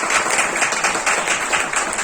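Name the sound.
audience applause in a hall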